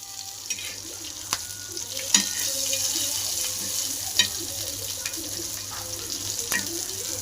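Green chillies stuffed with ground peanut masala frying in oil, a steady close sizzle and bubble punctuated by a few sharp clicks and taps of a utensil against the pan.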